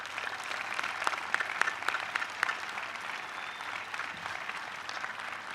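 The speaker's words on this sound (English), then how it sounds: "Can we give Dr. Kelly a round of applause, please?" Audience at a 2007 high school graduation ceremony applauds steadily in a broad, even wash of clapping, with a few sharper claps standing out near the start before it gradually thins.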